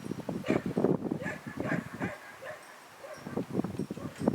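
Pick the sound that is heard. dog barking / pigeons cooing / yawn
dog barking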